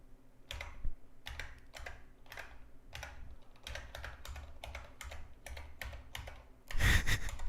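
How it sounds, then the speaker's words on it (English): Computer keyboard keys pressed one after another in a quick, irregular run of crisp clicks, close and fairly quiet, ending in a louder clattering burst. "Pressing every key on the keyboard."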